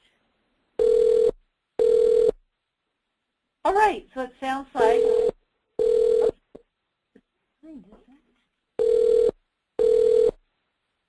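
Repeated electronic telephone ring bursts during a video call, loud paired tones recurring at regular intervals with someone speaking briefly between them.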